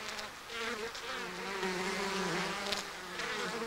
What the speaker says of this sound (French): D'autres surveillent et contrôlent la température de la ruche en battant des ailes pour créer un courant d'air.